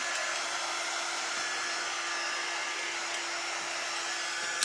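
A hair dryer blowing steadily and loudly on its own, an even broadband rushing hiss with a faint motor whine that holds constant throughout.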